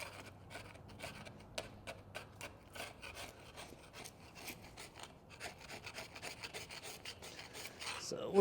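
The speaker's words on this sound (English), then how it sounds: "we're going to go around the edge of this with a carbide tip scraper" A carbide-tipped scraper works around the edge of an Eaton Fuller transmission housing, giving rapid, steady rasping strokes close by, with a brief low hum early on and the scraping growing slightly louder toward the end.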